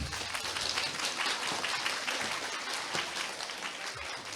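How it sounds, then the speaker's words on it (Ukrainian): A seated audience at a talk event claps in sustained, dense applause, loud and continuous from start to finish. "Ваші оплески"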